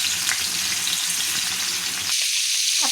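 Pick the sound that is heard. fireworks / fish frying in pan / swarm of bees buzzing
fish frying in pan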